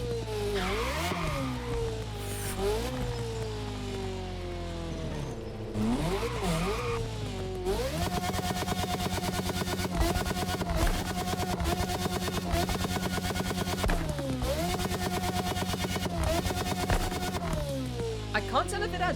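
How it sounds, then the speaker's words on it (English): A V8 Alpha GP Formula 1 engine in The Crew Motorfest, loud and high-pitched, revving up and down through gears with sharp rising sweeps and steady high-rpm screaming stretches, a voice talking over it. "The next engine sound swap is the V8 Alpha GP engine. So this one's supposed to be a Formula 1 engine,"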